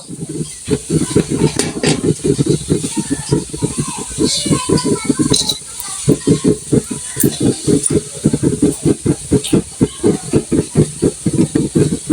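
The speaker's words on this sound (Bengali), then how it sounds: "আমি এখন আলু বসাইছি চুলায় দেখি আলুগুলো কি রকম হচ্ছে তো বলক উঠে গেছে আলুগুলো সিদ্ধ হইতেছে" Potatoes at a rolling boil in a pot on a stove, a steady bubbling hiss with rapid pulsing churn, close and fairly loud, continuing throughout with no talk.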